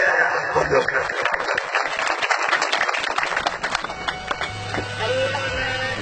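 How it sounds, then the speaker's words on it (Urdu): A crowd at a PTI workers' convention applauds with a dense patter of clapping that gradually thins out, with a voice carrying on over the tail end. "پرزور تالیوں سے"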